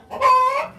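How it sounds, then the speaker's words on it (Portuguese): A brooding hen sitting on a nest of eggs in a farmyard gives a single short, tonal cluck-like call, close and clear against quiet surroundings. "Aqui tem uma galinha. Tá chocando, né?"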